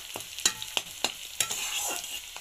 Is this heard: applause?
no